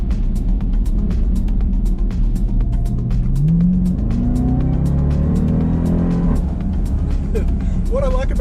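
A 707 hp Jeep Grand Cherokee Trackhawk accelerates hard, its deep engine tone climbing steadily in pitch with a supercharger whine over it. The sound stays loud and close throughout, with a voice talking over it.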